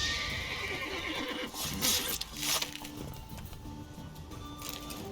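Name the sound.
scared horse neighing in video game The Witcher 3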